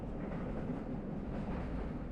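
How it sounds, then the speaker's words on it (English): A passenger train rolls steadily along the rails between Colombo and Polonnaruwa in Sri Lanka, a constant low rumble heard from inside the carriage, faint and even with no talk. "train moved steadily, passing through little stations where time seemed to linger"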